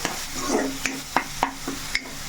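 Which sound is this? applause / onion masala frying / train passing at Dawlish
onion masala frying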